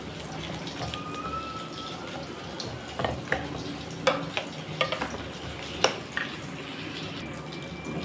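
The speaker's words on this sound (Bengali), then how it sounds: "মাছটাকে এখন আমি মশলার মধ্যে মাখিয়ে নেব।" Fish pieces are mixed by hand into a wet spice paste for a mustard fish curry, giving soft, quiet squelching and stirring with a few sharper clicks and taps near the middle.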